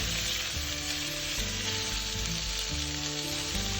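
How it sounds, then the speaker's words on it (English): Onions, ginger and garlic stir-frying in a pan for kimchi jjigae, a loud, dense, continuous sizzle heard close up with faint stirring underneath, no talking. "give it a good stir and stir fry it until the onions are cooked and translucent."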